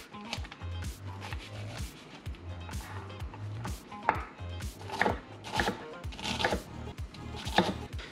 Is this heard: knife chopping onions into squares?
yes